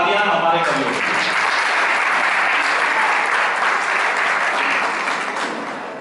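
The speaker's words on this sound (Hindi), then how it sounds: "जोरदार तालियां हमारे कवियों के लिए।" A Hindi poetry event audience applauds the poets with dense, steady clapping that holds loud and even throughout, tapering slightly at the end.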